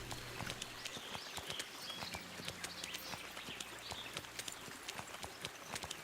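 Steady clip-clop of horse hooves on a hard surface in the video game Kingdom Come: Deliverance, a regular walking rhythm close by with a faint background ambience.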